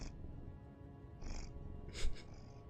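A male cat purring softly up close while getting head scratches, low continuous rumble with brief rustling and scratching sounds over it, no talking.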